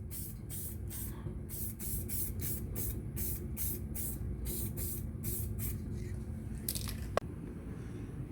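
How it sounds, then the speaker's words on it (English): U-POL weld-through primer sprayed from an aerosol can onto repair panels of a BMW E30 Touring drift car, heard as a series of short, close hissing bursts in a quick rhythm, ending with a sharp click. "Like all U-POL aerosol products, it comes out the can really well, so it sprays really nice"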